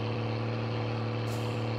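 Low, steady diesel rumble of a truck driving in My Summer Car, a loud continuous engine drone with a brief hiss partway through, no voices.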